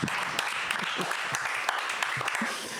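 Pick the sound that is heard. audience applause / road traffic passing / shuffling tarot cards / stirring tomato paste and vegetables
audience applause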